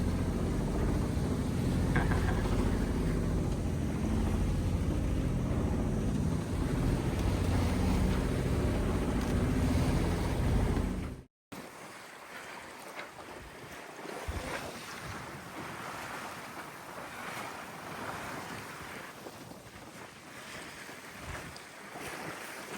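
Steady wind roar and rushing water on a moving sailboat on Lake Pend Oreille, then a cut to softer lapping lake waves and splashes against the hull, heard outdoors.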